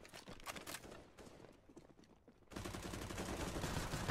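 Gunfire in the video game Counter-Strike, a faint burst of rapid shots that fades, then a denser, louder stretch of continuous automatic fire near the end.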